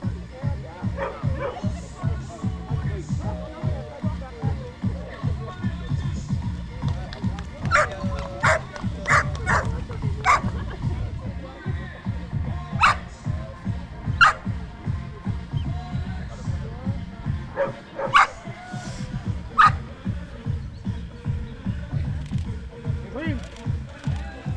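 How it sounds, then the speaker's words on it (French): Dogs arriving with a group of runners and walkers at an outdoor event, barking and yipping in a rapid, continuous run close by, with shuffling footsteps and voices mixed in. "Allez, on arrive avec les chiens."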